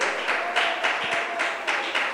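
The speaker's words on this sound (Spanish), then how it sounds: "¿Cuánto le dan aplausos al Señor? Aplauda la presencia de Dios." A church congregation applauds together, a dense, steady wash of clapping with a loose rhythmic pulse that fills the room and carries on without pause.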